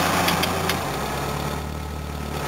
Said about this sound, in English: Now you can just hear engine and fuel pump.